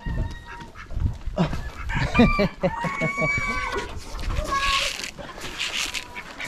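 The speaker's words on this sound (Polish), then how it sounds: "A kury pierniczą" Chickens cluck and squawk busily up close while a rooster crows, with bursts of other poultry calls and a voice mixed in.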